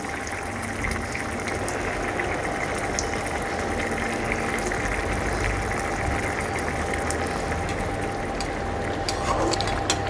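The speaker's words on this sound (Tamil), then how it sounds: "நண்டு பார்த்திங்கன்னா நல்லா கொதிச்சிட்ருக்கு" Crab masala gravy bubbles in a pan, a steady low simmering gurgle with faint kitchen hum, continuous and fairly quiet with no one speaking.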